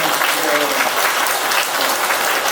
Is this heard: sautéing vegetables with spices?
no